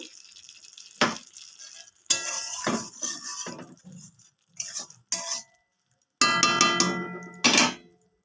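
Ghee is stirred into potol dorma, a stuffed pointed-gourd curry, in a pan: bursts of close metal spatula scraping and clattering against the pan, separated by short pauses, with a faint sizzle underneath.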